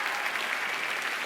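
Audience applause at a Super Singer 10 television singing show, a steady dense wash of clapping from a crowd, even and sustained throughout with no talk; whistles are not clearly distinct.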